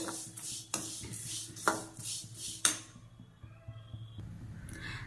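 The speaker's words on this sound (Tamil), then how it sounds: "இது எல்லாத்தையும் சேர்த்து நல்லா வறுத்துக்கிறேன்" Flattened rice (aval) and cardamom are stirred while dry-roasting in a pan, making a series of close, dry scraping strokes that give way to quieter rustling.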